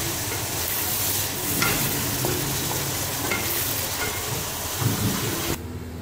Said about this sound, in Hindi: अब इसको 1 मिनट हल्का सा हम इसको भूनकर